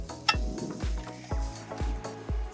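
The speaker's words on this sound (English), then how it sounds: "we'll get our sausage in with the onion to warm it up" Sausage and onion sizzling on a portable Weber Traveler gas grill, a steady close frying hiss punctuated by about five sharp metallic taps and scrapes of a utensil stirring at a regular pace.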